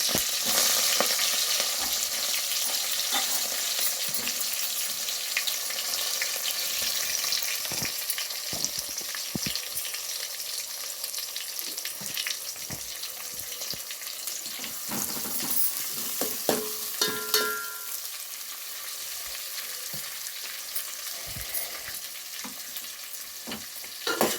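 Spices, masala and onion frying in ghee for bagara rice, a steady close sizzle with scattered crackles and occasional stirring scrapes throughout, no talking.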